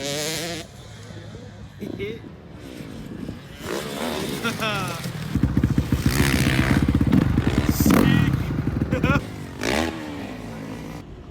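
Motorcycles at Brnik rev and drone with a buzzing engine note that swells to its loudest midway through, then eases off slightly toward the end.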